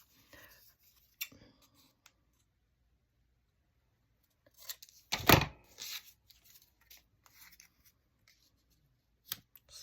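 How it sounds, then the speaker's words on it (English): Massive scissors snipping through paper for a postcard collage, a few sharp isolated cuts with one louder burst of snipping mid-clip, close and otherwise quiet. "And of course, I use these massive scissors."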